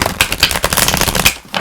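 Tarot cards are shuffled by hand at close range, a dense run of quick papery riffles and flicks that pauses briefly near the end before starting again.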